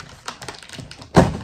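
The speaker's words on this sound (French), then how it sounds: "je mets des gros coups de ciseaux dedans" Scissors cutting open an unknown package: a few light snips and taps close by, then one louder crunching cut near the end, with no talking.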